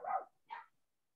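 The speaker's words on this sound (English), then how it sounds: "my dogs are barking at someone." Dogs barking outdoors at someone: two short, fairly loud barks in quick succession with a brief gap, no talking, then quiet.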